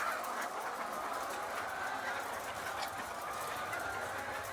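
Many hens clamor continuously in cage lines inside a poultry farm, a dense, moderately loud wall of overlapping clucks and squawks with no pause.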